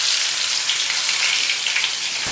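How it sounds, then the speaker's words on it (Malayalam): Mustard seeds crackle and splutter in hot coconut oil in a home kitchen, a bright, continuous sizzle heard close up with no talking over it. "വെളിച്ചെണ്ണ ഒഴിച്ച് കൊടുക്കുക. കുറച്ച് കടുക് ഇട്ട് കൊടുക്കുക കേട്ടോ."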